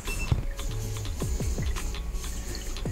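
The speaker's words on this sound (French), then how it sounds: "ce que vous entendez, c'est les micro-bulles d'air qui sortent et qui se font couper par l'eau" An automatic air vent on a condensing gas boiler releases micro air bubbles that get cut by the water, producing faint irregular ticks, clicks and soft gurgling sweeps over a steady low hum.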